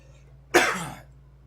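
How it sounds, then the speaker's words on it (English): One sudden, harsh cough bursts out close to the microphone, then trails off raspily over about half a second against a quiet, humming background. "I got a bad cough for some reason."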